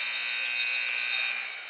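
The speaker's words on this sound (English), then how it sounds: "Matthew Kyle near corner three at the shot clock buzzer, no good." At a men's college basketball game, the shot clock buzzer blares as one steady, loud electronic tone lasting nearly two seconds before it fades.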